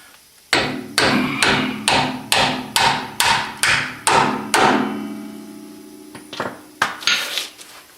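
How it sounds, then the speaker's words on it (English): Steel hammer striking ball joint and tie rod parts on a Ford E-350 van's front suspension: a steady run of about ten loud, ringing metallic blows, then a few scattered lighter knocks, close up with no talk. "Okay, got a hammer."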